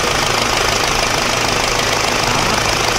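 A W9 bus engine idles in Euro Truck Simulator 2 with a steady, loud, even rumble and a slight knocking vibration, unchanging throughout with no other sounds.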